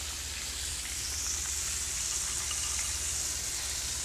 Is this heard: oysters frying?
yes